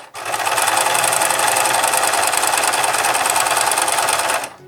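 A sewing machine stitches across the pointed tip of a fabric heart, giving a loud, steady, rapid mechanical whir that runs for a few seconds on its own before stopping.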